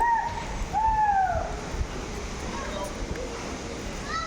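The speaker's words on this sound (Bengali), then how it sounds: "এই পাখির ডাক তো আছেই" A couple of clear, drawn-out bird calls ring out early over a constant wash of running waterfall water in a forested park at Sittong, then only the water continues.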